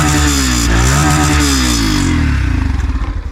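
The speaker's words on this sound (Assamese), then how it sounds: "এতিয়া শুনাই আছোঁ ইয়াৰে চাউণ্ডটো এক্সাষ্ট চাউণ্ডটো বহুত স্মুথ" A 2024 Yamaha FZ-X motorcycle's exhaust, a loud, close, steady engine note with a brief rise in revs that settles back into a low, pulsing idle.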